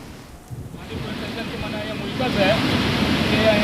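Steady roar of water overflowing the Goldha check dam in Mandvi, with a windy, blustery edge, loud and continuous throughout, swelling slightly toward the end.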